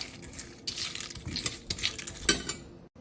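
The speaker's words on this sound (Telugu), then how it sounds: "కొంచెం మెంతులు, వేసి ఫ్రై చేయాలి" Fenugreek seeds frying in a pan for pulihora, a light sizzle broken by scraping and clinking of a spoon stirring against the pan, close and alone.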